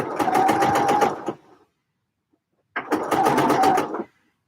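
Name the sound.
overlocker sewing knit top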